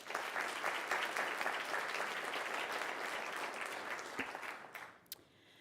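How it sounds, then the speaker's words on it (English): Sustained applause from a sizable audience at a principal of the year ceremony, dense steady clapping that tapers off toward the end with a few last claps. "Please join me in giving them another round of applause."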